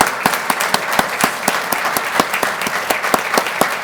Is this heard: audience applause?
yes